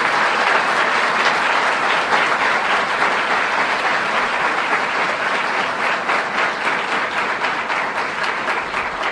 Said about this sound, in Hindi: करतल ध्वनि से आप ये बताने का प्रयत्न करें आप कितने खुश हैं